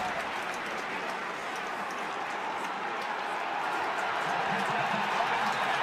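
Stadium crowd at an Iowa Hawkeyes college football game against Northwestern, a steady broad rumble of many distant voices swelling slightly toward the end, no distinct speech.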